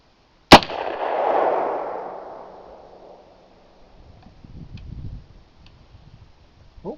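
A Windham Weaponry SRC 7.62x39 AR rifle fires a single loud, sharp shot that rings out and echoes for a couple of seconds, then a quieter muffled rumble and a faint click near the end.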